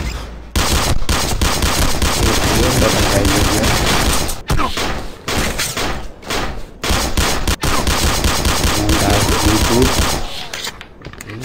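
Gunfire in the shooting video game Sierra 7, loud dense bursts of automatic fire rattling almost continuously with a few brief pauses between volleys.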